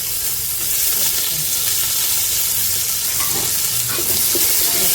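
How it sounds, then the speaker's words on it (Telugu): Garlic fries in hot oil for a home-cooked poha chudwa snack, giving a steady, dense sizzle close by with occasional soft stirring scrapes throughout. "వెల్లుల్లి వేసుకొని ఫ్రై చేసుకోవాలి"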